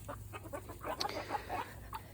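A mixed flock of backyard chickens clucks and murmurs continuously nearby, several overlapping soft calls rising and falling over low outdoor hum.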